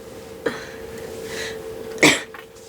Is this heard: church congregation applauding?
no